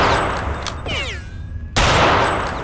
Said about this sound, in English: there's somebody with a Gatling gun